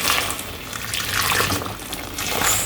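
Hot water pours steadily over smoked fish set to soak, a continuous close splashing hiss with no voices.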